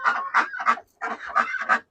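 A goose on a Florida farm honks six times in two quick bursts of three, loud and close, nasal and rhythmic with a short pause between groups.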